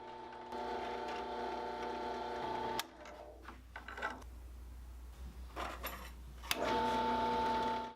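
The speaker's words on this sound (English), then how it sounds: "Now each rod gets a hole drilled through the middle of it" A wooden rod for a rippling kinetic sculpture being bored through its middle with a power drill, a steady whirring drone broken by a brief pause and scraping, then the motor running again close and loud, no talk.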